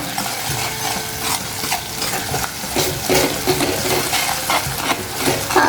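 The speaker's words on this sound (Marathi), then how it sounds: "आता हे व्यवस्थित हलवून घेऊया" A spoon scrapes and clatters in a pan of sprouted chickpea curry with red chili powder and salt, a continuous close stirring with a low sizzle underneath and no talking.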